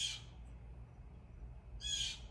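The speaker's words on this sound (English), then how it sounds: "The bird agrees." A bird gives two harsh, raspy calls, one at the start and one near the end, separated by quiet background hiss.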